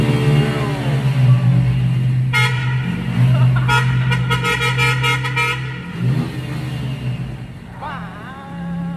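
A vehicle drives along a rough, potholed road: a steady engine drone with bursts of loud horn tooting in the middle and people talking throughout.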